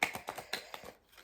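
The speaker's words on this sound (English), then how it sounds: "So we'll go ahead and shuffle the cards." Quick, crisp riffling clicks in a rapid burst, close up and fairly quiet, like cards being shuffled on a table.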